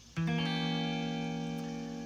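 A single strummed blues guitar chord from a chord progression rings out clearly and close, sustaining and slowly fading over two seconds.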